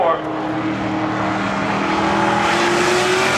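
Race cars lapping Seekonk Speedway during a NASCAR opening-day spectator drag event, a loud engine note holding and then rising steadily in pitch as a car powers through the turns.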